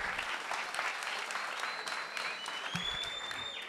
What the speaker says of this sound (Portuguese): Bora, família, aplausos com força